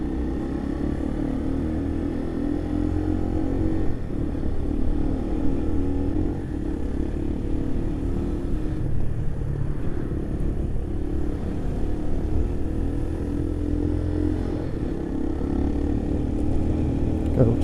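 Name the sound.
motorcycle riding in road traffic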